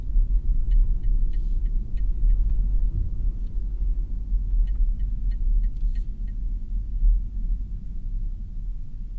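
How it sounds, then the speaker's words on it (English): Inside the cabin of a 2024 Rolls-Royce Spectre on the move, a steady low road rumble and hum fill the space with the HVAC fan running, while faint ticking clicks sound in bursts above it. "This is the quietest vehicle I have ever spent time in."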